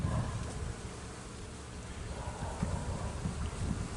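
Honey bees buzz steadily around an open hive during a spring inspection, a dense, continuous drone close by with slight swells in loudness, heard alone without talk.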